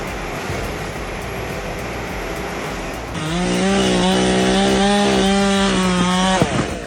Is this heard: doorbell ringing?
no